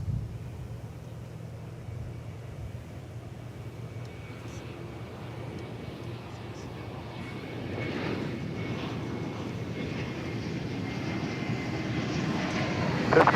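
An airliner takes off from runway 18 left at DFW Airport, a distant low engine roar that builds gradually and grows louder toward the end, heard outdoors without talk.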